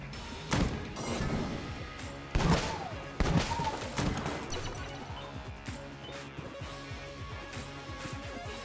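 Rapid bursts of gunfire from a randomly acquired gun in Enter the Gungeon, several sharp loud volleys with thuds and crashes over a busy game soundtrack.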